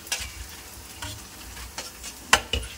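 Cassava crackers fry in hot oil with a steady soft sizzle, broken by scraping stirs and a few sharp crackles and pops, close up with no talking.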